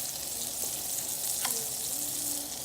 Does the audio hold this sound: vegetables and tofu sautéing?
yes